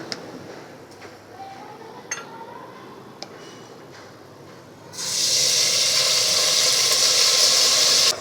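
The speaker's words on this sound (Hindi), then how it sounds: "हमने अच्छे तरीके से अदरक लहसुन को भून लिया है।" Ginger and garlic frying in a pan, a soft crackle with scattered ticks that swells at the midpoint into a loud, steady sizzling hiss.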